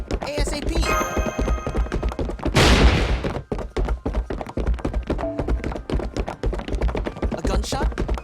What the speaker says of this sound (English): A gunshot? It came from the old building.